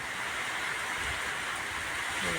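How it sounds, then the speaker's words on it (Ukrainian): Spring rain falling steadily outdoors on dry ground, a dense, even hiss with no breaks, moderately loud and close, with a faint low sound near the end. "Такий я дощ цей зніму"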